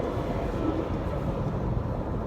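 2017 Jeep Compass Latitude 4x4 SUV with all-wheel drive accelerating at full throttle, a steady, dense engine roar heard from inside the cabin with no talking.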